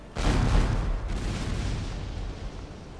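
A 12-pound cannon booms in the Battle of Waterloo in the game Imperial Glory, one loud sharp blast that rolls out into a long fading rumble.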